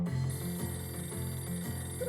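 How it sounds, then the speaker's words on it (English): A front-desk telephone rings in the video game Hotel Dusk, a steady repeating electronic trill in regular bursts, moderately loud and alone without talk. "The front desk phone is ringing."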